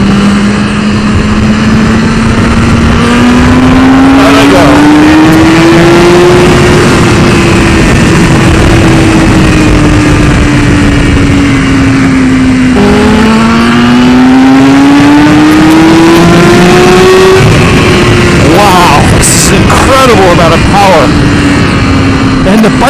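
A 2015 BMW S 1000 RR sport bike screams around a race track, its engine pitch climbing steadily through the gears, dropping at a shift and rising again, loud and close, with a rider talking over it.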